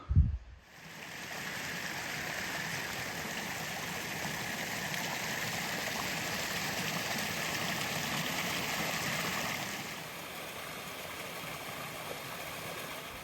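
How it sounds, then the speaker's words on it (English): Abbey Brook, a stream in the Peak District, rushes in a steady, full wash of flowing water heard close and alone, easing slightly near the end after a brief knock at the start. "So right now I am walking alongside Abbey Brook"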